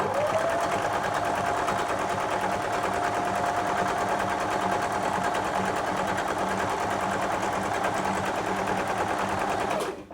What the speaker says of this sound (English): the mat is ideal for this actually, because there's, you know, a fair bit of stitching going on